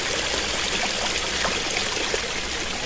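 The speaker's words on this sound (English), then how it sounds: "I love hearing the sound of flowing water." Water flows steadily in a garden, a constant close rushing trickle with no pauses.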